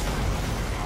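Dense, continuous rumbling blasts and bursts fill the short stretch, loud and chaotic like a barrage of explosions in Destiny, with no pauses.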